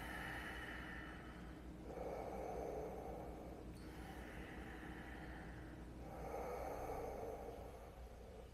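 Slow, soft exhales during a flowing yoga class, two long breaths spaced a few seconds apart over a steady low background hum, quiet and close, with no speech.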